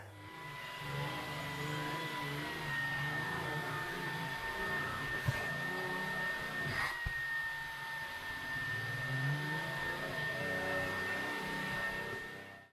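A Shark CleanSense IQ+ stick vacuum runs steadily across carpet, a continuous whirring motor whine with a brush roller rumble beneath, close and even with small shifts in pitch as suction rises.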